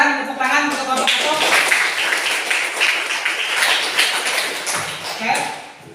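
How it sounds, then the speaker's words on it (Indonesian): A classroom audience at a university teacher-training session claps for group 1, a dense, steady patter of many hands that runs for several seconds at close range. Speech is heard briefly at the start. "silakan tepuk tangan untuk kelompok 1."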